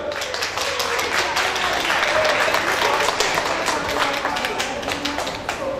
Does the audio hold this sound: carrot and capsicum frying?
no